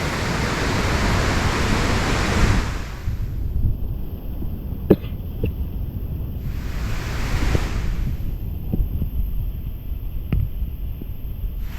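A steady rushing roar of falling water at Shenbaga Devi Falls, Courtallam, fills the scene, swelling and fading in waves, with a few faint clicks and no talking.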